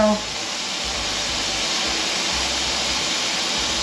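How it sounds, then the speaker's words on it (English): Forceful steam hisses steadily and loudly from a pressure canner close by while canning chicken, a continuous broadband rush with no pauses after a brief opening sound. "you can see how hard the steam is coming out now"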